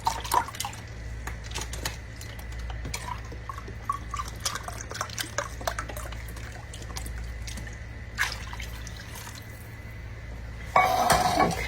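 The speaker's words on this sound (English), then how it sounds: "we're going to add 2 cans of beef broth" Canned beef broth pouring and splashing into rice in a pot, a steady close liquid trickle with small drips and a metallic clink near the end, over a low kitchen hum.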